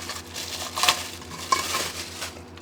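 Thin, cheap steel lid of a Vevor 12-liter pot still being handled, giving a few light metallic clanks and scrapes at close range with no talking.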